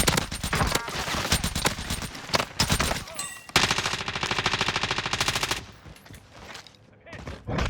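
Loud, rapid automatic gunfire from Call of Duty: Warzone, dense bursts of close shots with brief gaps, fading near the end, while players talk.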